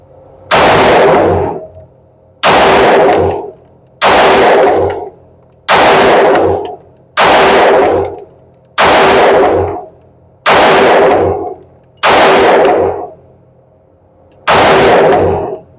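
Nine loud, separate Sig Sauer P320 X-Five 9mm pistol shots at a range target, evenly spaced about every one and a half seconds, each sharp crack ringing out with a short decay and no talk between them.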